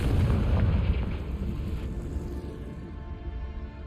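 A Confringo spell explosion in the video game Hogwarts Legacy, a loud deep boom with a rumbling burst that slowly decays into a fading low rumble over several seconds, with no talk.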